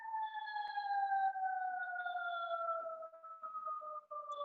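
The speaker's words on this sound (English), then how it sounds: "Can you hear an ambulance in the background?" A distant ambulance siren holding a steady two-tone wail that slowly drifts lower, faint and continuous with no voices.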